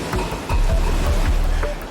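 Powerful Atlantic Ocean waves and currents surge and crash close by, a loud continuous rushing wash with low rumbling swells.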